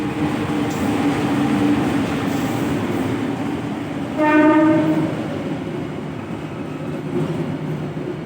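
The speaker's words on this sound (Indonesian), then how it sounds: "ini lihat kedatangan kereta api berantas dari Blitar" A passenger train from Blitar rumbles steadily nearby, arriving at a station in Indonesia, with a brief horn blast in the middle as it rolls in.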